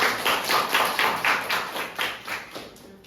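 Students in a classroom clap together in a short burst, a rhythmic series of claps about four per second that fades after three seconds.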